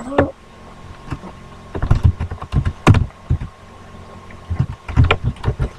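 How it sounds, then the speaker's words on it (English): Clacking on a computer keyboard while playing Minecraft, close and irregular bursts of keystrokes and clicks with pauses, no talking. "sorry for typing so much."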